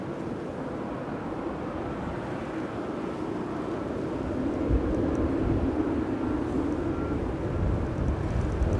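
A Boeing 787-8 airliner taxis at Manchester Airport with a low, steady engine rumble and a faint whine that grows slightly louder partway through, heard from a distance without voices.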